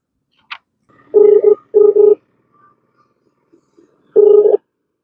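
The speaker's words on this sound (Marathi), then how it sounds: "परत एकदा फोन लावू द्या ना, बघू आपण ते काय म्हणतात ते." Telephone keypad tones as a number is dialed to call back: a short high blip followed by three clear tone bursts in quick succession, a pause, then one more burst, sounding alone and close.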